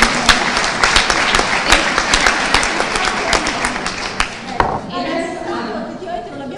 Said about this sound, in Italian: Quindi un applauso anche all'assente.